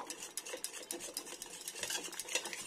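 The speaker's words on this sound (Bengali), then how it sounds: "এটা ডালটা এটা একটু দলে দিতে হবে এমনি করে" Soaked kalai dal (biulir dal) mashed by hand in water, giving continuous close wet squelching and sloshing with soft rhythmic swishes, no voices.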